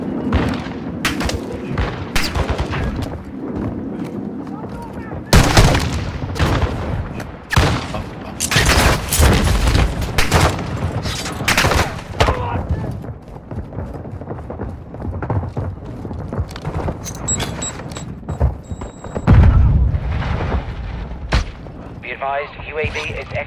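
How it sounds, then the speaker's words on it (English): Heavy game gunfire and booming explosions rattle through a Call of Duty–style multiplayer match with a squad and an operator hunter nearby, dense bursts and blasts continuing under radio chatter and voices. "they're shooting through walls here, bruv"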